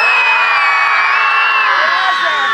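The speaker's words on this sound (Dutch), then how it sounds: "Ik tel tot 3 en dan gillen jullie zo gevaarlijk als je kan." A crowd of children screams together on cue at an outdoor medieval-themed event in Montfort, a loud sustained high-pitched shriek that tapers slightly near the end.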